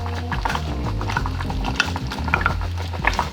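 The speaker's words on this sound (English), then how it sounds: "I'm gonna add some white onion into the pan" White onion goes into a hot pan of pineapple: a steady close sizzle with stirring scrapes and light clatter throughout, no voices.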